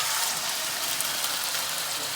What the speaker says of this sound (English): So it's sizzling and nice and fragrant.